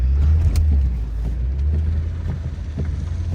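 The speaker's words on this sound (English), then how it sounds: "Oh my God, I'm finna drift the fuck out this turn" BMW M5 Competition drifting through a snowy turn, heard from inside the car as a loud, steady low engine and road rumble with wind buffeting and a few faint knocks.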